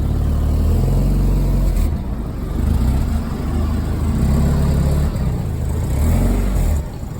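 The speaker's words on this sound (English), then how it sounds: "Exhaust rattles so much, I don't like it." Mazda Miata engine with an aftermarket exhaust, running loud and close with a low droning rumble and rattle that swells and dips as revs change, briefly easing near the end.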